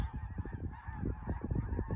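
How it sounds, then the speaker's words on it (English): A large flock of wild snow geese honking together, a loud, dense chorus of overlapping calls that continues without pause. "These are all wild geese that I scared up shooting those shots."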